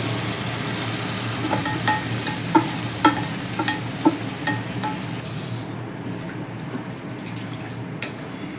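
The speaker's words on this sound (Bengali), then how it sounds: "এবার আমি ডালটা ঢেলে দেবো ডালটা ঢেলে দিচ্ছি" Lentils hit a spice paste frying in oil, making a dense, continuous sizzle with scattered clicks and scrapes of stirring, close and fairly loud, easing toward a softer bubbling hiss near the end, without any voices.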